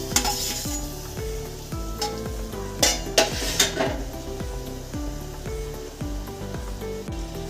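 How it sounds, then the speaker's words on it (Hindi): Pieces of petha, the Agra ash-gourd sweet, simmering in sugar syrup over a low flame, giving a steady bubbling sizzle with repeated scraping strokes of a spoon against the pan and a few brighter clinks, close up with no talk. "अब इस चाशनी में हम इन पेठों को डाल देंगे और लो फ्लेम पर पकाएंगे।"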